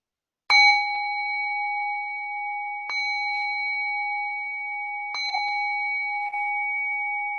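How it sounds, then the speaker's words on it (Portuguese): A bell rings three times, each clear metallic strike followed by a long sustained hum that rings on into the next, close and alone. "E ao som do sino, vá despertando."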